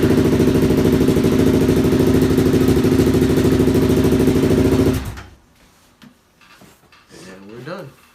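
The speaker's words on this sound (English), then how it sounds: "hook the gas tank up and she should start right up" Suzuki LTZ 400 ATV engine, running without its valve cover after a no-start fault, idles loudly with a steady rapid rhythmic chug for five seconds before cutting off, followed by quiet clatter and a brief voice.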